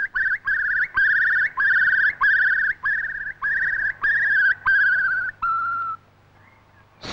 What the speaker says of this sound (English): Now, bubbling song from a real curlew.